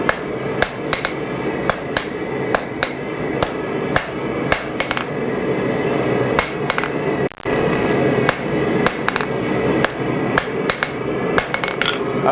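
A blacksmith forges a pair of tongs, hammering hot metal on an anvil with a steady run of sharp, ringing strikes in an uneven rhythm. Each blow is close and loud, with no talking.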